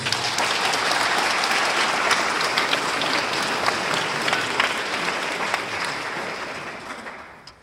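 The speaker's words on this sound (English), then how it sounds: "Let's give them a quick round of applause." A candidate forum audience in Denver applauds steadily, a dense, sustained wash of clapping that holds strong for several seconds and then gradually tapers off.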